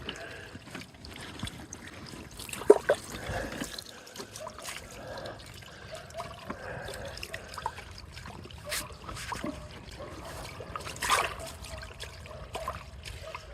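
Water trickles and dribbles on a farm after leaves are cleared away, a faint uneven flow with occasional splashes and knocks.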